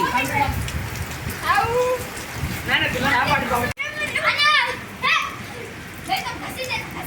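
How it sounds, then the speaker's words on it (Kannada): Steady rain patters down throughout while children shout and chatter nearby, their voices rising over the constant hiss of falling water. "ನೋಡ್ರಿ ಮಳೆಯಾಗ ಎರಡು ಸಾರಿ ಆಯ್ತು ಮಳೆ ಬರ್ಲಕತ್ತ"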